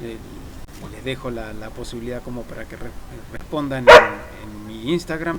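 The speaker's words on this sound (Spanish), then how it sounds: "Ese es mi perro, sí" A pet dog named Miquel gives a single sharp bark indoors, loud and close, breaking into a continuous Spanish-speaking voice that carries on around it.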